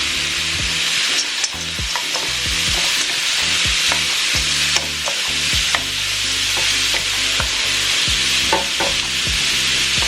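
Mixed vegetables sizzling loudly in a hot pan while being stir-fried, a dense steady hiss with frequent utensil scrapes and clacks against the pan, close and full over faint background music.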